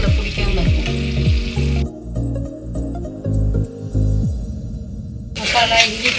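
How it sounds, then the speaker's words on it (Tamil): Masala with ginger and garlic sautés in oil inside a pressure cooker for mushroom biryani, a loud, close frying sizzle that thins out mid-way and then returns, set against a sustained melodic background. "மசாலா, இஞ்சி பூண்டு இதெல்லாம் குக்கரில் பிடிக்காமல் நல்லா வதங்கிடும்"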